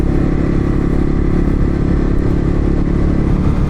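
A cheap $500 motorcycle ridden through city streets, its engine droning loud and steady up close with rattling clatter and road rumble throughout.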